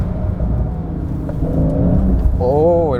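Porsche 911 accelerating hard on a circuit with its rear wheels spinning. The engine note rises under a voice talking over it, and the pitch climbs sharply at the end.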